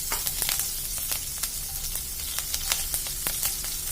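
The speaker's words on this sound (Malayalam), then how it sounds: "എന്നിട്ട് കടുക് പൊട്ടി കഴിഞ്ഞവരെ നമുക്ക് കാത്തിരിക്കാം" Mustard seeds crackling and popping in hot oil while prawn pickle cooks, a steady sizzle dotted with quick sharp pops throughout.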